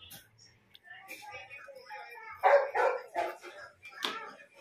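Several dogs bark and yip in short bursts close by in a home setting during Christmas time, loud against quiet pauses, with a voice talking among them.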